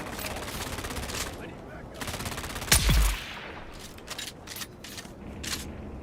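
A single sharp gunshot in the sci-fi video game Dune: Awakening, loud and close, standing out over a steady bed of game ambience and faint background noise.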